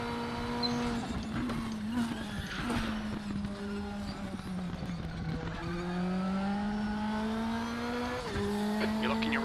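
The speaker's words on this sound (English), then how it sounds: "You're locking your right front into turn 5. Huge lock up." In the Raceroom racing game, a P2 Radical race car locks its front tyre under heavy braking at Daytona's road course, a sustained engine whine with tyre squeal over constant car noise and some talk.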